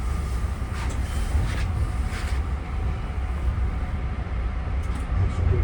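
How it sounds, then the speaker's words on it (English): Long Island Rail Road M3 train on the Brooklyn Shuttle running, a steady low rumble and hum from inside the cab with faint clicks and rattles, continuous and fairly loud, with no clear talk. "the mentee is running the train"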